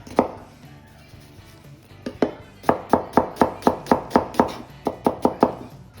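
A knife chops a small yellow onion on a board: one knock, a pause, then a quick run of about a dozen sharp, evenly spaced cuts, close and clear with no talking.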